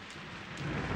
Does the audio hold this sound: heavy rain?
yes